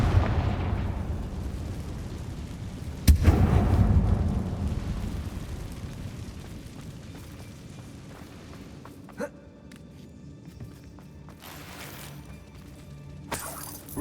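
A Confringo blasting spell in Hogwarts Legacy bursts with a loud deep explosion that rumbles and fades over several seconds, followed by fainter sharp pops and magical effects later on.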